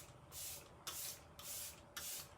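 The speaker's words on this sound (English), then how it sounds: "we're gonna go in with the Let It Set Refreshing Spray, and this just holds all your makeup in for the entire day" Arbonne Let It Set Refreshing Spray setting spray is misted onto a face in four quick, soft hissing bursts at an even rhythm, close and quiet with no talking.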